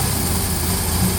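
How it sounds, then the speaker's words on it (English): Toyota truck with a 4.3 engine and an intermittent flooding fault, running loud and close in the dark with a steady low rough drone that never climbs into a clean rev. "you can hear it not wanting to rev"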